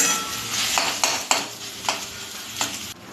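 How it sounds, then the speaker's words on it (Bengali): Dal paste being stirred in a frying pan for a Bengali dhoka dalna, a soft continuous sizzle punctuated by several scraping spatula strokes against the pan at an uneven rhythm; no talk. "ডাল বাটাটা তখন একটুখানি নেড়ে নিই।"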